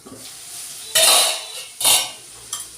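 A metal lid is lifted off a pot of abai bean pods cooking on low gas, giving two bright clattering clinks and a lighter tap, close and alone over quiet background.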